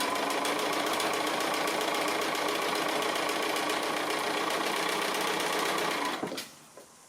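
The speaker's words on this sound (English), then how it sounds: "So I'll go ahead and do all this stitching" A sewing machine stitches quilt block squares in a fast, steady whirring run, close and even, then stops abruptly near the end, leaving quiet.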